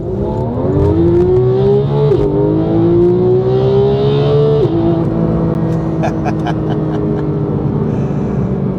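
A Porsche GT3 engine accelerates hard and continuously, pitch climbing with brief dips at gear shifts, loud and close, with faint talk underneath.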